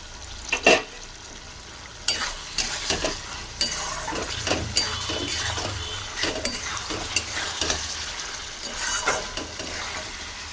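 Chilli soybean with Kashmiri chilli is stirred in a sizzling pan, the spatula scraping and tapping in irregular strokes over a steady frying hiss, close by and without speech.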